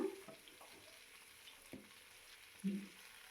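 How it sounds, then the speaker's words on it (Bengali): New potatoes frying in a pan with salt and turmeric give a quiet, faint sizzle, broken by a few soft stirring scrapes and clinks of a spatula against the pan; no one speaks. "এবারে ভালো করে নাড়ি চাড়িয়ে এটাকে ভেজে নেব"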